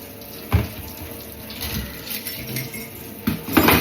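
Water runs steadily from a tap into a sink, a continuous hiss broken by a couple of brief clinks and knocks nearby.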